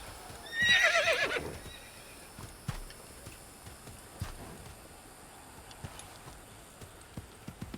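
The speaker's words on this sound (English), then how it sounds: "Let's see if we can ride through this with the horse, then that'll be more convenient." A horse in the Assassin's Creed video game gives one loud whinny near the start, followed by faint clip-clopping hooves and small ticks against a quiet background.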